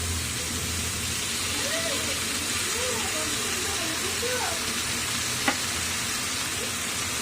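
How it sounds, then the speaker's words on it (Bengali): Green chili sauce hits a hot pan while cooking momos, setting off a steady loud sizzle and hiss with stirring scrapes and one sharp clack, while a person talks over it. "এটা গ্রিন চিলি সস দিয়ে দিচ্ছি।"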